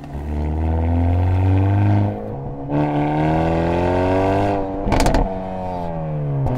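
Hyundai Veloster N or Avante N exhaust revving close by from the right-side variable-flap tailpipe, a loud rising and falling engine drone with several rev swells, a brief crackle near the end, and no talking.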